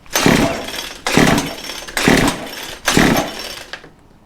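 A Troy-Bilt weed eater engine fires in four short, loud, raspy bursts about a second apart, each roaring up and then dying back, heard close with no voices.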